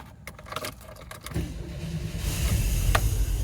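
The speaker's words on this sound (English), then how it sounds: "let me fire it up and see if we can take her down the road one more time" A 1987 VW Syncro Adventurer Wagon bus engine cranks and catches about a second and a half in, then settles into a steady, rumbling idle that slowly grows louder. No one speaks.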